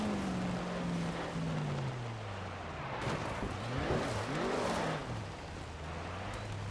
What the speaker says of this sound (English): we can just like really just brake boost this thing and build boost up